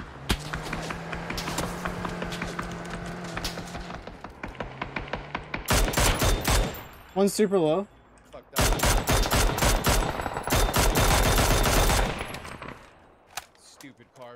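Rapid automatic gunfire in the online shooter PUBG, with long dense bursts of shots interrupted by short pauses, loud and close, while players talk briefly over the game sounds.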